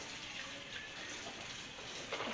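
Water runs steadily from a kitchen tap as coconut pieces are washed, a constant hissing gush with a faint clatter near the end, heard alone without talk.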